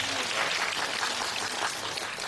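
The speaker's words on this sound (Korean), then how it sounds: "큰 박수 다시 한번 부탁드리겠습니다" An audience at a Korean construction accounting lecture applauds steadily, a dense, even wash of clapping from many hands that carries on without a break.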